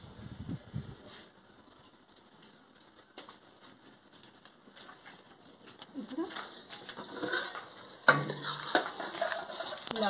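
A fish curry masala is stirred in a pan in a village-style kitchen, giving soft, irregular scraping and stirring noises with a faint sizzle that grows louder and busier toward the end.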